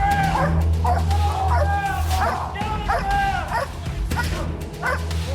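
A police dog barks and yips repeatedly in quick, uneven bursts close by, mixed with whimpering, over a steady low hum.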